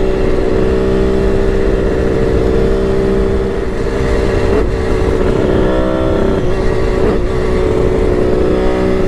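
A Kawasaki KH500 H1 motorcycle on a test ride, its engine droning loud and steady at a constant throttle with only small dips in pitch, and no speech heard.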